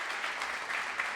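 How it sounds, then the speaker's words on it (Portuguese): A church congregation applauds in a dense, even patter that sounds steady and moderately distant throughout the brief moment. "pode aplaudir o Senhor pela vida do pastor Felipe."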